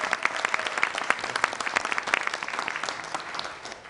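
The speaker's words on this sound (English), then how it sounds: "Let's give him a round of applause" An audience applauds Mayor Van Johnson at a Savannah public event, a dense, steady burst of clapping from a crowd that tapers off slightly at the end.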